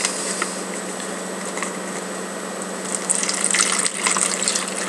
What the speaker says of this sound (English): So you pour in the water. Again, there's another fill line right here, and then you shake it up.